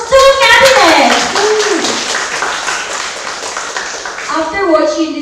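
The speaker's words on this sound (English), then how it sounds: "let us give a round of applause to those two cabinets" Audience applause after a public debate, a loud, dense burst of clapping that fills the room and holds steady, with cheering voices and talk rising over it at the start and end.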